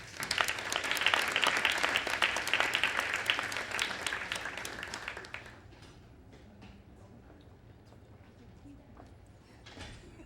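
An audience at an annual graduates' gala applauds a graduate, steady loud clapping for about five seconds that then fades to scattered claps and quiet room noise.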